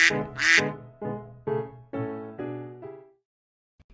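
A duck quacks about seven times in a steady series, close and clear with no other sound, the calls growing slightly longer and more nasal before stopping.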